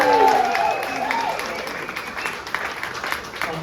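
An audience applauding volunteers at a live science presentation, a sustained wash of clapping with voices mixed in beneath it.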